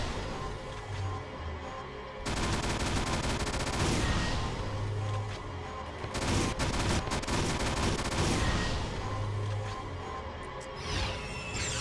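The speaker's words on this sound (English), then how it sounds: "Beam weapon? Jeez. That's a cool sound." Beam weapons fire in Valkyria Chronicles in long, loud, sustained bursts of crackling energy that come in waves, with short quieter gaps between them and a lower droning hum underneath.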